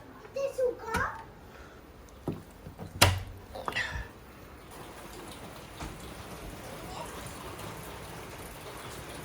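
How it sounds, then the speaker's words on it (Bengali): Steady rain that has been falling since morning patters continuously outside, with a voice and other brief sounds breaking in over the first few seconds before the rainfall carries on alone. "শুয়ে শুয়ে বৃষ্টির শব্দ শুনে শুনে অনেক ভালো লাগতেছে"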